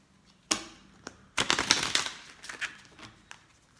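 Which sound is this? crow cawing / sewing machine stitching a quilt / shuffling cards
shuffling cards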